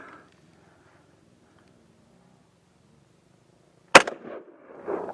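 A single sharp blast from an SKS rifle shot at a tannerite target cracks out loud and close after near silence, followed by a short rumbling tail and people reacting with speech.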